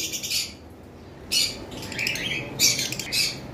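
Caged lovebirds let out several harsh, high-pitched squawks in quick clusters, loud and close, with quieter chirps in between.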